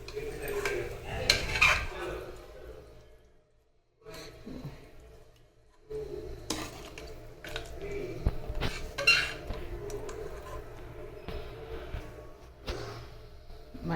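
Metal clanks and scrapes of a pressure cooker pot and its lid being handled, with spoon clinks against the pot while checking cooked mutton, in close, intermittent bursts between quieter pauses, with faint background voices.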